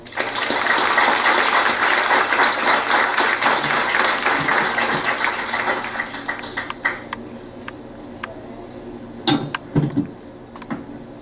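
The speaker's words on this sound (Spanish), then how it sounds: "Y lo vamos a recibir con un fuerte aplauso." Applause from an audience welcoming a speaker to a talk, loud dense clapping for about six seconds that thins out into scattered claps and a few bumps.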